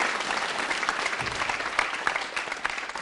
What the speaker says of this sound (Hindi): तालियां जोरों से बजाइए इस व्यक्ति के लिए